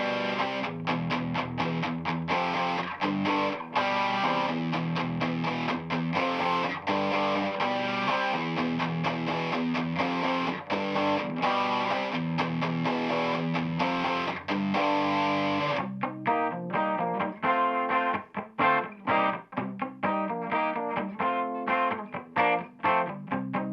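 Electric guitar playing a song through a Hammond organ speaker cabinet, a continuous loud run of chords and riffs with distorted tone throughout, turning choppier and more staccato in the final stretch.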